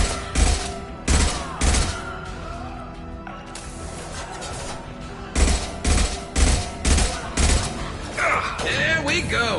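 Rifle gunfire fires in a steady rhythm of loud, close, evenly spaced shots, pauses briefly, then returns as a second run of regular blasts. A voice can be heard faintly near the end.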